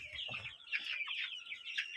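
Chickens clucking close by, a steady run of short overlapping clucks and calls with no talking.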